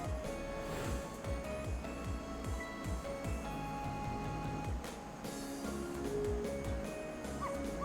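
Repeated short barks from Missile, a small dog in the game Ghost Trick, come in a quick rhythmic run over steady game music, loud and close.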